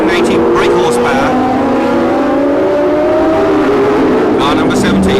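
A Formula 1 race car engine revs hard to 11,000 rpm through rising gears, its pitch climbing and dropping with each shift, loud and close, with someone talking over it.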